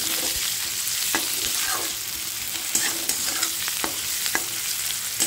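Onions frying in a pan for a prawn and egg dum biryani, a steady close sizzle with occasional scraping stirs from a utensil, no voices.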